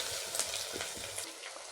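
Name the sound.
onions frying in oil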